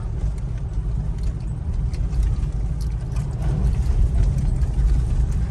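A car travels along a rain-affected route down toward a village, giving a steady low engine and road rumble that stays loud and even throughout, with no talk.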